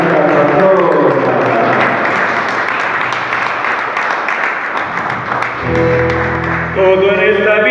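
A church congregation at a mass honoring Santa Rita applauds steadily, with dense clapping close and loud throughout, and a voice and music sounding underneath toward the end.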